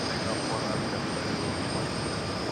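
A jet airliner taking off on runway 4 Left at JFK airport, a continuous loud broadband engine roar with a high whine on top and faint talk beneath.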